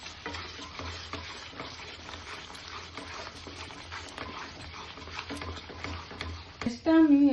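Cashew paste masala stirred and fried in a pan with a little water over low gas while making mushroom masala, giving a steady close sizzle with scraping stir strokes and a louder burst near the end.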